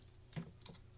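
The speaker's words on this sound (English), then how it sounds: "So I can type here" A computer keyboard gives a few quick, soft key taps, faint and close in an otherwise quiet room.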